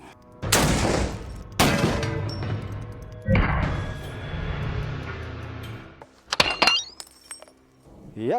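A Soviet WW2 14.5mm anti-tank rifle fires MDZ instant-action incendiary rounds at 20mm IFV armored steel plate, three heavy outdoor booms about a second apart with rolling decay, then scattered metallic clatter and impacts.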